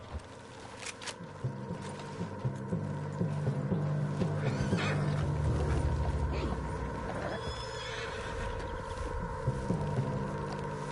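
A horse in Red Dead Redemption 2 neighs and whinnies in drawn-out, wavering cries over a steady game soundscape, with a faint clip-clop of hooves and mid-level loudness throughout.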